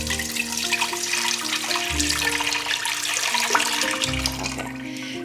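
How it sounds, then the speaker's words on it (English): Homemade chicken bone broth pours through a fine mesh strainer, a steady close trickling and splashing of liquid with faint low tonal hums beneath. "I'm going to pour it over this fine mesh to catch any more bits"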